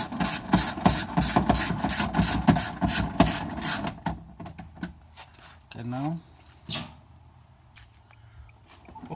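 Rapid ratchet clicking while bolts are tightened on a Nissan Altima window regulator, a steady burst of close, loud clicks that stops abruptly, followed by quieter handling noises and a brief voice.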